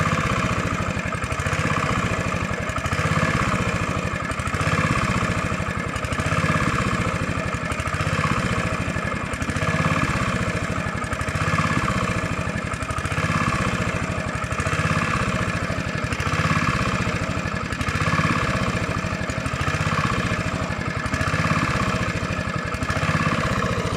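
A rebuilt Honda GV150 small engine runs steadily with a rhythmic, pulsing chug that rises and falls every couple of seconds, close and moderately loud, with no talk.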